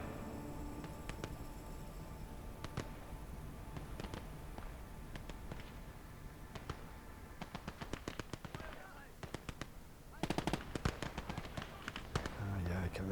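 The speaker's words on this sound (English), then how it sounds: "the 4 or 5 57mm guns doing all the hard work" Several 57mm guns fire in the Gates of Hell video game during Operation Luttich. Faint, rapid cracks come scattered throughout, then a thicker cluster of bursts near the end, with a voice talking underneath.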